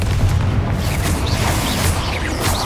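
Confringo spell explosions in Hogwarts Legacy, heavy booming blasts with low rumble and crackling debris, several bursts blending into continuous loud impact noise.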